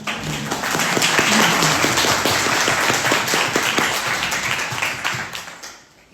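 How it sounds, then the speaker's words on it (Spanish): A lecture audience in Ávila claps for a poet, a full, lively round of many hands with distinct individual claps audible, sustained and then tapering off toward the end. "Un aplauso, tenemos a una gran poeta aquí."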